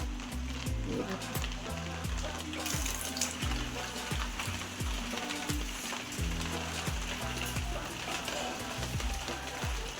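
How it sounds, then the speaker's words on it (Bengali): Heavy rain pours down in a dense, steady hiss that fills the whole stretch, with low tonal sounds and a voice faintly underneath. "প্রচুর বৃষ্টি হচ্ছে"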